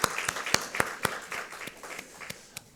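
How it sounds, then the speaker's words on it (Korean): Sparse, distinct handclaps during a Sunday morning church service, a dozen or so sharp claps in a loose rhythm rather than a full ovation. "우리 찬송 가운데 임하신 하나님께 감사와 영광의 박수 올려드리겠습니다."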